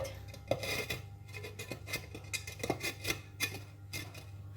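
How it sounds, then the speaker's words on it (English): A clay pot lid clinking and scraping as it is set on a claypot of prawns with glass noodles, a series of light ceramic taps and rattles at close range, with a soft steady hum underneath. "So I'm going to put in some more parsley on top and cover the lid."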